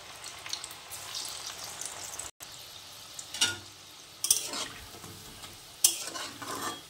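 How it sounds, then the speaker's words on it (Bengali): Cauliflower pakoras fry in hot oil while being stirred, a soft continuous sizzle broken by several sharp scrapes and clinks of the spoon against the pan, close and fairly quiet. "এইভাবে কিন্তু নেড়ে চেড়ে ভালো করে ভাজতে হবে"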